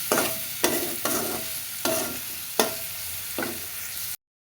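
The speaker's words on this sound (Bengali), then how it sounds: "লবণ দিয়ে ভাজি ভাজতেছিলাম" Vegetables frying in a pan with a steady sizzle, broken by several sharp scrapes and clacks of a utensil stirring, close and fairly loud.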